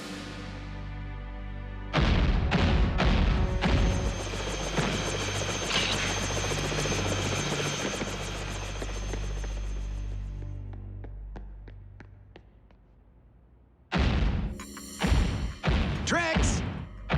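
A rescue helicopter in a Transformers Rescue Bots cartoon, its loud rotor thumping pulsing steadily with engine whine, then fading down before bursts of heavy thuds and effects.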